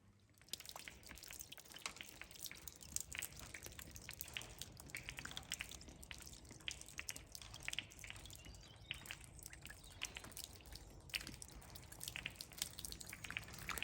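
Melting frost dripping off a roof like rain, faint scattered drips and ticks at irregular intervals over a quiet outdoor background.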